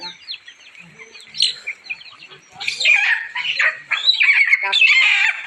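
Hens cluck and call close by in a homestead yard. Their busy, uneven bursts rise and grow louder toward the end, and a human voice is heard faintly now and then.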